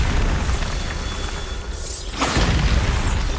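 A Bombarda blasting spell explodes in the video game Hogwarts Legacy: a loud booming burst with debris and crackle, then a second blast following a short dip, over constant game ambience.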